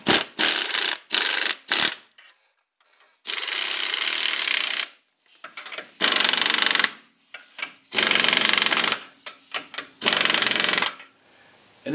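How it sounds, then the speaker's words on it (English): Lock nuts are run down onto U-bolts on a vehicle leaf spring during a broken spring repair, with loud close bursts of power tool rattle and whir separated by short pauses and no talking. "And the lock nuts. And we'll snug the U-bolts up."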